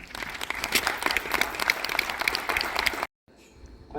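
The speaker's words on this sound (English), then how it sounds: "you got to put your hands together and give them a big round of applause" A cruise ship audience applauds with dense, sustained clapping for about three seconds, then stops abruptly as talk begins.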